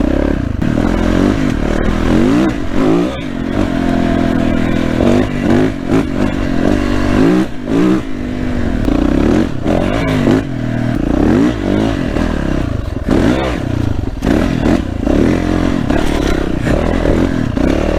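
A KTM 300 EXC two-stroke enduro motorcycle ridden hard off-road, its engine revving and bogging continuously with rapid throttle changes, close and loud, with clattering and scraping from rocks and the rear wheel sliding.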